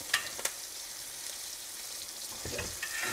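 A steak sizzles steadily in a pan while being basted with herbs and garlic, a close, continuous hiss with a few spoon scrapes and splashes near the start and end.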